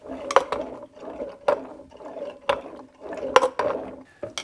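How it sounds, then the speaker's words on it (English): Worn crank bearings in a vintage Kawasaki KDX 450 dirt bike engine knocking with a rough metallic clack and ratcheting grind, repeating about once a second as the engine is slowly turned over. "from rolling it over, those crank bearings sound terrible"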